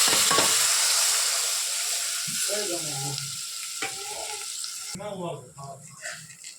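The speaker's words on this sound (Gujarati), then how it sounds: "હવે આપણે આ ડુંગળી ટમેટું અને મરચું નાખી દઈશું" Onion, tomato and chilli frying in a pan for idli sambar, a loud steady sizzle with stirring scrapes, fading somewhat as a voice talks over the latter half.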